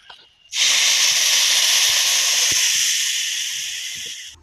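Water poured into a pan of frying cabbage, bursting into a sudden loud, sustained steam hiss that holds steady for several seconds and slowly fades, close up with no talking.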